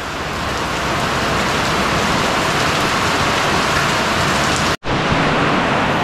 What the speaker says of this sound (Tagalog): Buti na lang nakarating na tayo dito bago lumakas ulit yung ulan.